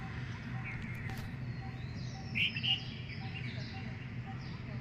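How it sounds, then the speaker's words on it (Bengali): A bird calling from the top of a mango tree near a rooftop at dawn, a few faint distant chirps over a steady low background hum. "আম গাছের ওপরটায় দেখুন একটা পাখি ডাকছে,"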